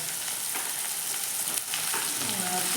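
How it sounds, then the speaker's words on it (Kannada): Potato curry fries in a pan over the heat, a continuous close sizzle with a few stirring scrapes and no voices over it. "ಈಗ ಆಲೂಗಡ್ಡೆ ಪಲ್ಯ ಮಾಡಕತ್ತಾರೆ ನಮ್ಮ ಮಮ್ಮಿಯರು"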